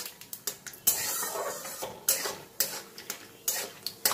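Peanuts fry in a hot pan while a metal spoon scrapes and stirs them, producing repeated sharp clanks and scrapes at an uneven rhythm over a soft background sizzle, close and fairly quiet, with no talking.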